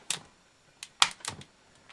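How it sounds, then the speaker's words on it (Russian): A hair dryer's handle latch, tested after repair, gives a few quiet plastic clicks in short separate bursts with pauses between, heard alone and close. "Проверяем работу фиксатора."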